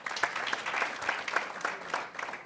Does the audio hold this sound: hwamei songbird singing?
no